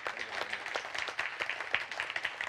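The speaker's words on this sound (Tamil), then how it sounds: "இன்னும் கூடுதல் கைத்தட்டுவீங்க" A hall audience claps steadily, a dense spatter of many hands at moderate volume with no break, and no voices on top.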